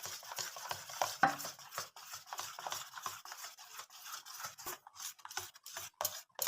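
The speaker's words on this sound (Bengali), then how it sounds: "খুব ভালো করে জলটা আর ব্যাটারটা মিশিয়ে নেব" Water being stirred into rice batter in a mixer jar, heard as a quiet, quick run of small scraping and swishing strokes at close range, irregular and continuous, with no voices.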